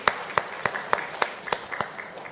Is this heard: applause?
yes